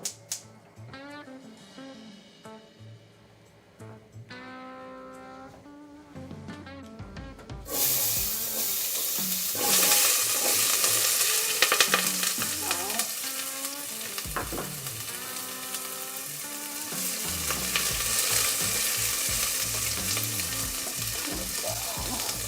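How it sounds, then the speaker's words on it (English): Potatoes frying in olive oil in a pot: quieter tonal sounds first, then a loud, dense, sustained sizzle bursts in and crackles on with occasional stirring knocks. "we're going to coat it with some oil, olive oil here, just enough to get it for when we fry up these potatoes"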